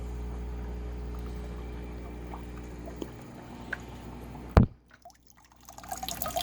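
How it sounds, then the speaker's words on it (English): Aquarium water runs through airline tubing in a steady trickling flow, then a sharp handling clunk and near silence as the flow is dialed down to a faint drip. "so you can see we got a good flow here. And now I'm just dialing it down to a drip."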